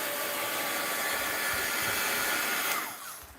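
A dryer blows steadily onto a freshly carved owl stamp project, a loud, even rushing whoosh that cuts off shortly before the end.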